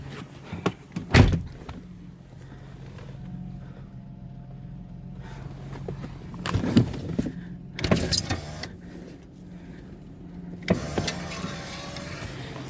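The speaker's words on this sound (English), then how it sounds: "so I'm gonna close the door." A truck door closes amid a few separate clunks and thumps spread over several seconds, with quiet stretches in between and no one talking.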